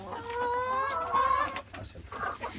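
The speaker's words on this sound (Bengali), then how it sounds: "এটা মুরগি" A crested hen on a small farm in the UK clucks in a series of close, tonal calls lasting a couple of seconds, with faint background noise and no speech.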